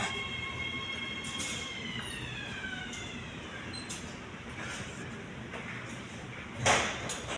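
Train pulling into a station platform while passengers wait inside, with a steady rumble, drawn-out squealing wheels sliding through several pitches and a sharper metallic burst near the end, loud and close with no clear speech.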